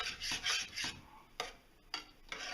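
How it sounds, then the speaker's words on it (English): A utensil stirs oregano into chicken with mushroom gravy, making several close, quiet rasping strokes that come in uneven bursts with short pauses between them. "Let's give that a stir."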